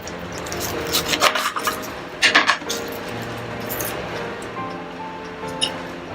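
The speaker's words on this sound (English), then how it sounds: "Now we're going to do our onions. I believe they call this scallions and not onions. They're the same thing. So cut those." A knife chops scallions on a wooden cutting board in a home kitchen, giving a few quiet, uneven bursts of rasping, scraping cuts separated by short pauses.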